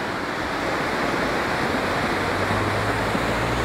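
Rainwater washing down from the mountains pours into the sea, giving a steady, broad rushing roar of water and surf that stays even and fairly loud throughout, with no voices.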